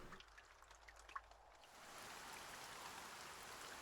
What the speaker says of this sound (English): How appropriate, it's raining, just like outside.